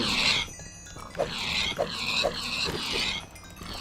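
Pigs killed with a sword in a Minecraft modpack game give a run of short, repeated grunting squeals at roughly half-second intervals over a steady game background, with no talking.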